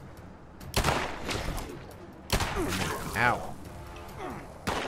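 Gunfire in Fallout 76 during a hunt near a Nallygaster and a robot, sharp loud shot bursts at intervals mixed with impacts and game sounds, under a voice.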